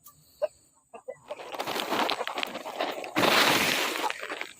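Laying hens cluck in short bursts nearby, followed by a loud scratchy rustling and scattering noise, like birds shuffling in litter or straw.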